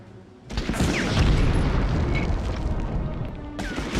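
Grenades go off in the Medal of Honor video game, in a V2 rocket plant, one big blast rolling into a long loud rumble of debris and further bursts that fills the whole stretch.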